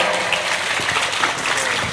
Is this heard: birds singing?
no